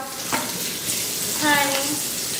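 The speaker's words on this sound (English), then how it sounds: "I'm about to wash my steak off," A New York strip steak rinsed under a running kitchen tap, a steady close wash of water with faint splashes and shifts in the flow, no talk.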